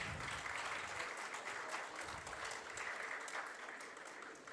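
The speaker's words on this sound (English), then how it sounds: "Please give a huge round of applause." Sustained applause from an audience at an HR conclave, greeting a sapling presentation on stage; the dense clapping stays steady and fairly loud throughout, with no one talking.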